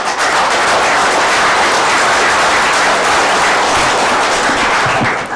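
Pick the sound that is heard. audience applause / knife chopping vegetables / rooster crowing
audience applause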